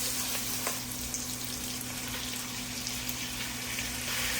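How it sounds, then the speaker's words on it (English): Vegetables sautéing in a Dutch oven, making dense, constant sizzling and crackling with light stirring and no pauses. "with this Dutch oven, you got to make sure you keep them moving so it won't stick to the pan"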